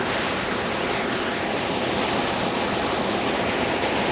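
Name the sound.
water flowing over stones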